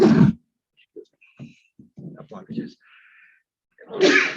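Two loud sneezes, one at the start and one at the end, with a few quiet mumbled words in between.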